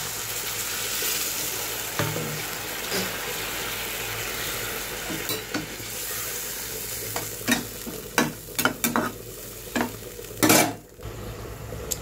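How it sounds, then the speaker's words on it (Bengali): Fish curry sizzles steadily in a pan as water goes in, followed by a run of close clinks and scrapes from stirring near the end. "এবার জলটাকে আমি অ্যাড করে দিলাম।"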